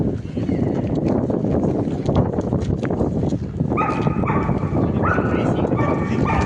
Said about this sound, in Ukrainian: Ой, собачка гавкає.